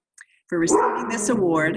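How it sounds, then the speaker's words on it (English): A dog barks and yips in short bursts beneath a voice during an outdoor permaculture award acceptance speech, the barking fairly close but mixed under steady talking. "Excuse my dog"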